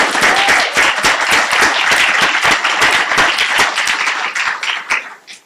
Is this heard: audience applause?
yes